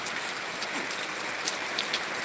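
Steady rain falls across a rice paddy field outdoors, a dense continuous hiss of drops with no voices, even and moderately loud throughout.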